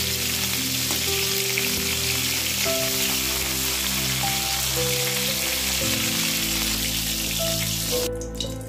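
Cauliflower pieces frying in hot oil to a reddish brown, a steady close hiss and sizzle running throughout with occasional soft clinks.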